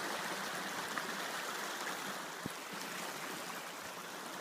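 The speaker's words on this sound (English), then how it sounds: "Find a suitable place to ford the stream." A flowing stream in Yellowstone at a river-crossing spot, rushing water as a steady broadband wash that runs unbroken throughout, with one brief knock partway through.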